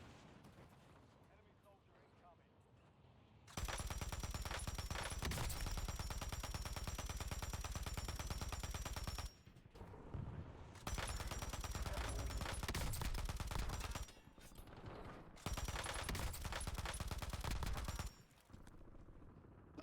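SMG fire in the video game Warzone, loud sustained bursts of rapid automatic gunfire in three long stretches separated by short pauses, with quieter game noise before the first burst.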